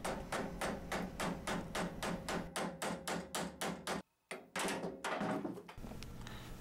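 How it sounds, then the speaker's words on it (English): A socket is hammered against a sleeve to drive out a table saw arbor bearing: a rapid, even series of loud close metallic taps, a short pause, then a few more hits. "I used a sleeve that was inside the arbor and a socket to tap it out."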